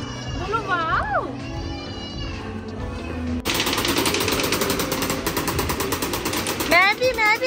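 Arcade shooting game at a Jaipur fun centre fires rapid electronic gunfire bursts at on-screen monsters, loud and continuous after an opening stretch of game music, with children and adults talking and shouting over the noise.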